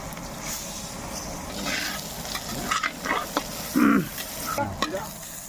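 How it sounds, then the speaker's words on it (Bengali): Lentils tossed with panch phoron whole spices fry in hot oil, a close steady sizzling hiss with intermittent scraping stirs and a few louder clatters, no speech. "এরপরে যাবে পাঁচ ফোড়ন এরপরে যাবে ডাল ডাল দিয়ে দে সম্পূর্ণ দিয়ে দে একবারে দিয়ে"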